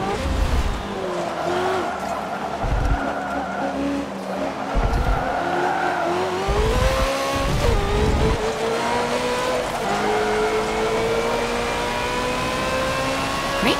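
Race cars in Forza Motorsport 7 at Suzuka roar continuously at full volume, with engine pitch rising and falling through gear changes and bursts of tire squeal in the corners; no one talks.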